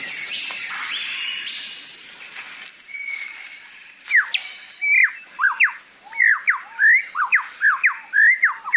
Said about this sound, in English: this bird must be one of them. The superb lyrebird of Southern Australia.